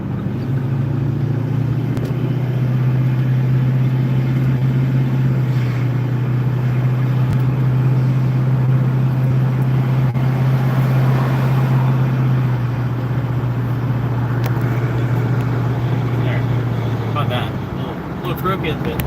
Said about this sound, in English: Driving to the dump.